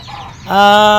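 A loud chicken call with a strong harmonic, honking quality cuts in halfway through, sustained and close, after a stretch of quieter background noise.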